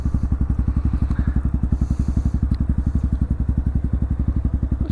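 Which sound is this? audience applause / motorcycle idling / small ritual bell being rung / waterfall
motorcycle idling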